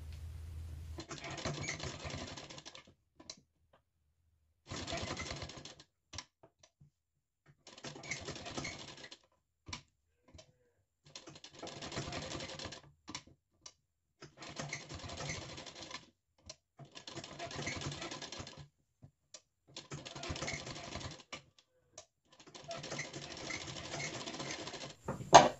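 A sewing machine stitches a blouse sleeve in short rapid bursts of clattering needle action, about eight runs separated by quiet pauses, fairly faint and close.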